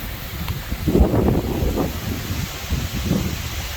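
Steady wind buffets the microphone in low, rumbling gusts on a hiking trail in the Ozark Highlands, rising and falling throughout with no other clear sounds.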